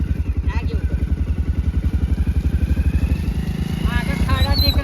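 A borrowed motorcycle is ridden along a rough road, its engine putting out a close, rapid, even thumping that holds steady the whole time while voices talk over it.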